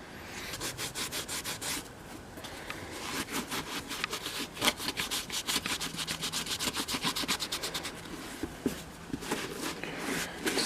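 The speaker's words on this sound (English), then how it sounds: "Just getting all the dust off at the moment, and dirt and grime." Dust, dirt and grime are rubbed and brushed off a boot being repaired with barge glue, in quick repeated strokes that come in bursts, close and fairly quiet, with no talking.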